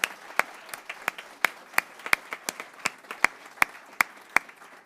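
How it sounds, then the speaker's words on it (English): Scattered clapping from a small audience at a school board meeting, sharp individual claps in an uneven rhythm rather than a dense ovation, moderately loud and close, with no talk over it. "Can we give him a round of applause,"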